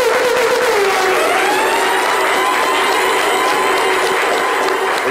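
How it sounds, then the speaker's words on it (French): Sustained applause from an audience as a ten-second tribute to a figure of Ivorian culture, a steady wash of clapping with a faint high tone running underneath. "Je vais vous demander humblement de faire 10 secondes d'applaudissements pour"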